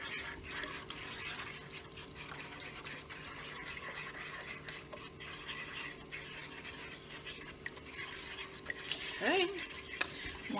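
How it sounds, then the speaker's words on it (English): A whisk works melting cheese sauce in a pot for a ham and cheese pasta casserole, producing a steady, soft swishing and scraping that continues throughout, with a faint hum in the background and a few brighter clinks near the end. "I'm going to go ahead and take my whisk and mix it around."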